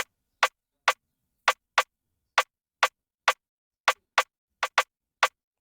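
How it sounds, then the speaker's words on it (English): A snare drum sample plays in FL Studio with changing velocity: a dozen crisp, bright cracks in a loose, syncopated pattern, some slightly softer than others, each ringing briefly before silence. "So after that we have a snare"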